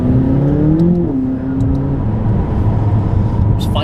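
A McLaren 570S engine running loud and close, with a steady pitch that climbs briefly, then drops and holds around 5,000 RPM, under continuous talking.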